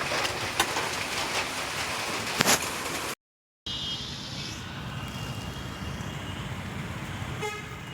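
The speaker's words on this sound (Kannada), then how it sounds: "ಯಪ್ಪ ಎಷ್ಟು ಮಳೆ ಅಂತೀರಾ." Heavy rain pours steadily outdoors on a walk in Malpe, a dense continuous hiss with a brief gap midway, while car horns toot faintly in the distance.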